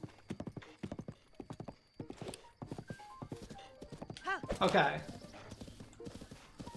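Horse hooves clip-clop in a steady galloping rhythm while riding toward Hyrule Castle in a Zelda video game, with a whinny midway and someone talking over the hoofbeats throughout.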